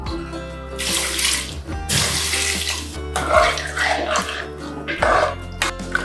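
Water gushes and splashes in uneven pours into a cooking pot of vegetables for sambar nearby, with a few pauses between streams and a dog faintly heard.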